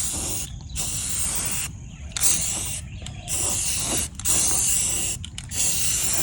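Aerosol spray paint hissing in repeated bursts over old glider trailer frames being coated with primer and brown paint, with brief pauses between passes; close and fairly loud, no talking.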